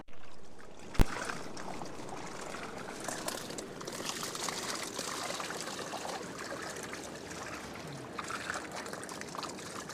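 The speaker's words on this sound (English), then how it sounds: "We'll have a look at the fish and we'll pour them back" Roach poured from a keep net back into a river with a steady splashing, trickling rush of water, one sharp splash near the start, then continuous pouring outdoors.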